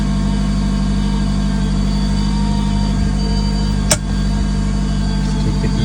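A 2006-2016 Toyota RAV4 engine running at a steady idle, a loud continuous hum close by with one brief sharp click near the end, no talking.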